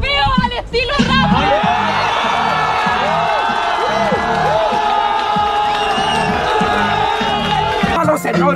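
A live rap battle crowd shouts and cheers continuously as a loud wash of voices, with whoops rising above it and a heavy rhythmic beat pulsing underneath throughout.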